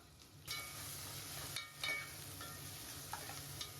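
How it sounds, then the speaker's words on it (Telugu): Onion pieces and curry leaves fry in hot oil with fennel, giving a steady broadband sizzle with a couple of brief stirring scrapes, close and continuous throughout. "ఇప్పుడు ఈ ఉల్లిపాయ ముక్కల్ని మంచిగా ఫ్రై అయినంత వరకు వేపుకోవాలి"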